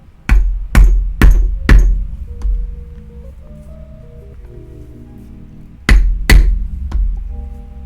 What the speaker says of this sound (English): we're taking our stitching chisel, making sure we're straight up, and we just gotta hit it